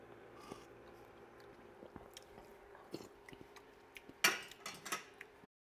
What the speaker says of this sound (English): So, give it a stir.